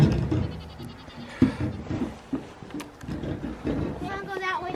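Goats bleat on a farm in several short, irregular calls amid children's and adults' chatter, fairly close and moderately loud, with a higher wavering bleat near the end.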